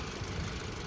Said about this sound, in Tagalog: Ang tahimik ng makina.